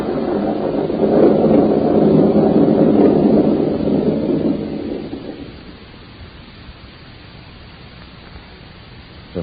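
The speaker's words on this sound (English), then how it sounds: "The thunder sounds" Thunder sound effect in a 1938 radio drama, a loud low rolling rumble that swells and holds for several seconds, then fades into a faint band-limited background hiss.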